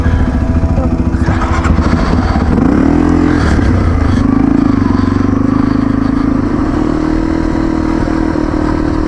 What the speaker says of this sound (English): Twist the throttle.